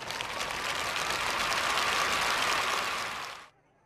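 Studio audience applause for a reporter from a provincial radio and television station on a Vietnamese TV programme: steady, dense clapping that holds for about three and a half seconds and then stops abruptly.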